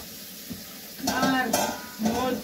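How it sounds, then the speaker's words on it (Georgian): Meatball mixture frying and being stirred in a hot pan, with a soft sizzle and a few louder scraping stirs in short bursts, close by. "ასე კარგად შეიხრაკა"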